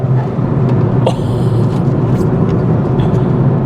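A 300hp Ford Fiesta ST engine pulls hard in third gear, giving a loud, steady, close in-car roar with a brief mechanical chirp partway through, and no talking.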